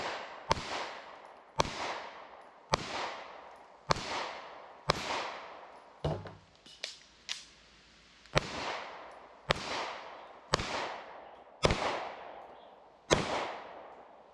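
Sharp, loud pistol shots from a Smith & Wesson M&P 2.0 ring out one at a time at a steady pace, about a dozen in all, with a short break partway through, and no talking.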